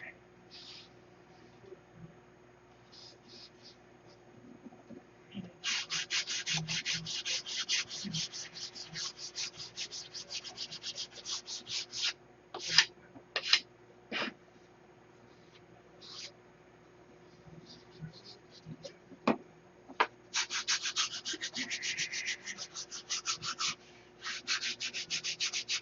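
Wooden airfoil on a model stunt plane being sanded by hand, long bursts of close rasping strokes separated by quiet pauses, with no talking.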